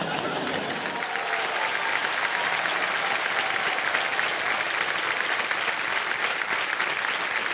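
Studio audience at a televised quiz show applauding steadily, a dense wash of clapping that stays even and fairly loud throughout.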